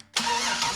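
Truck engine cranking and catching after repair work under the hood, a brief near burst that settles straight into a steady loud running note.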